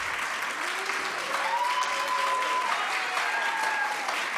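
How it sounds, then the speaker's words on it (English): Sustained audience applause at a gathering on human trafficking, a steady wash of clapping lasting throughout, with a faint tonal whistle or feedback line running underneath. "So let's give all of us a round of applause to Pauline,"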